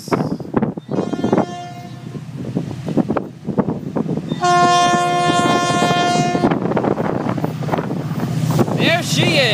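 Florida East Coast freight train on the main line passing with its horn sounding in long blasts, heavy rumble and wind buffeting the microphone, loud and close, with brief voices at times.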